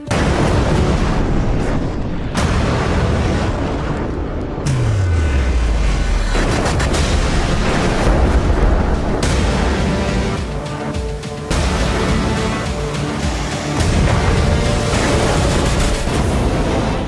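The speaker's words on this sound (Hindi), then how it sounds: "धमाके हो रहे हैं, शहर के शहर दहल रहे हैं।" Booms and blasts from missile strikes hitting cities during the Iran–US war, dense and continuous with sharp bursts at intervals, plus a falling rumble early on, all loud and without clear talk.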